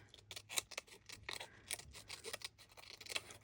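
Scissors snip through paper to trim a junk journal ephemera piece, a quiet run of quick, irregular close cuts and rustles with no speech.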